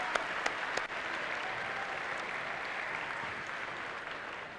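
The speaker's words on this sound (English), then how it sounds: "So give yourselves a huge round of applause." Crowd at the opening ceremonies of a 2017 PNW district robotics event gives the teams a long, even round of applause, dense and sustained from start to finish with a few sharper claps early on.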